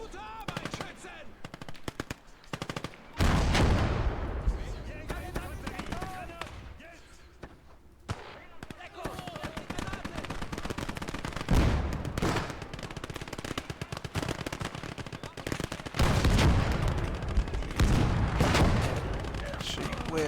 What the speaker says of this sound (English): we can provide suppressing fire